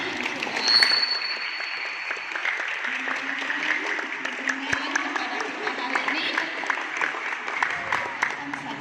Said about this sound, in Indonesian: tepuk tangan untuk Pak Harli